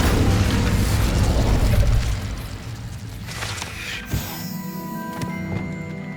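An Incendio fire spell cast in Hogwarts Legacy: a loud, dense rumbling roar that drops away, then a sharp burst followed by a bright, ringing shimmer that trails off.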